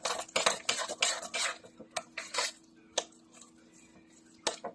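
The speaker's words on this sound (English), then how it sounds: "And I'm going to mix that in my potatoes." A spoon stirs sour cream into a bowl of mashed potatoes for twice baked potatoes, giving a series of scraping, clinking strokes in quick bursts, then a few isolated knocks against the bowl, with no talk.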